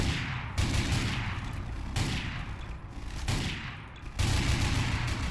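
Machine gun turrets from the J.I. Defense Solutions mod for Garry's Mod fire continuously, forming a dense, loud, close roar of rapid shots that swells and drops in several long waves with no talking.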